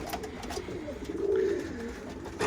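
A blue pigeon in an office coop gives a few soft, low coos up close, brief and muffled, with faint rustling and no speech.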